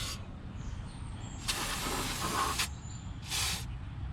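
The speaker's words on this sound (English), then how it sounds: "So I'm just gonna hit this with some brake cleaner" Brake cleaner sprayed onto the brakes of a BMW 435i, with two distinct aerosol hissing bursts, the first longer than the second, close up over a low background rumble.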